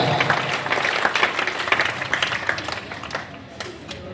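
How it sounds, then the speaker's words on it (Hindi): Audience applause at a school block-level debate competition, a steady wash of many hands clapping that gradually thins out toward the end. "जोरदार ताली बजाए, बार बार तालियों के लिए कहना पड़ रहा है।"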